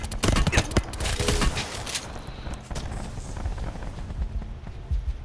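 Rapid bursts of gunfire from Call of Duty Black Ops Blackout crackle densely at the start, then thin into scattered shots under the game's busy background noise, with players talking over it.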